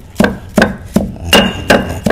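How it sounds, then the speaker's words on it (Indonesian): Neem leaves are pounded with a pestle to make a botanical pesticide, producing six loud, sharp thuds at a steady rhythm of roughly one every third of a second, close and without speech. "Jadi kita akan lebih mudah ya dengan cara menumbuk seperti ini"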